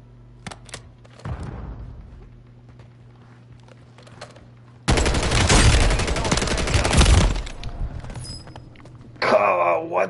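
Bursts of automatic gunfire in the video game Warzone, a long loud sustained volley in the middle and a shorter burst at the end, with a player's voice heard in between.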